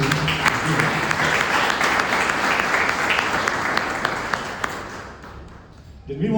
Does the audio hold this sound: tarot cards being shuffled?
no